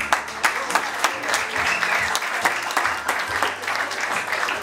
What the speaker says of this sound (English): Applause and thank you